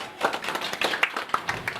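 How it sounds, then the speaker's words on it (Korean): A small audience at an elementary school alumni year-end gathering in Dangjin claps to welcome a speaker, a brief, fairly faint patter of overlapping hand claps. "박수로 맞이해 주시기 바랍니다."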